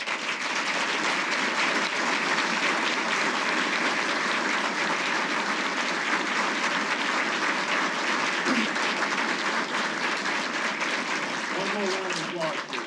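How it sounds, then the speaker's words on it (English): Sustained audience applause fills an awards ceremony hall, a dense, steady wash of many hands clapping at even loudness throughout. "One more round of applause, please."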